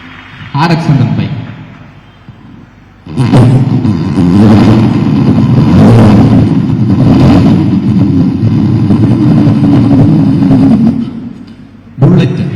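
A mimicry artist on a school festival stage voices a Yamaha RX 100 motorcycle, a brief rev, then a long, loud buzzing two-stroke drone held for several seconds before cutting off, with another burst at the end.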